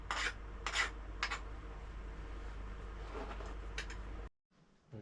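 A machined metal sliding block for a scratch-built model steam engine is deburred, with a few quick scraping passes followed by a steady, faint rubbing that stops abruptly near the end.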